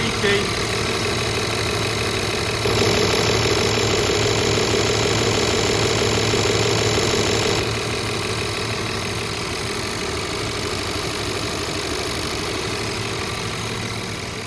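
A vehicle engine fitted with a new fuel pipe settles from high idle to a steady warm idle, a continuous loud rumbling hum with a constant tone throughout, close to the microphone.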